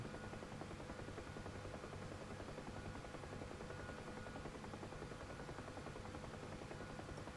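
Ka-50 and other helicopters fly close by in a VR combat flight game, producing a steady, dense rotor drone that stays at even loudness throughout, with no talk.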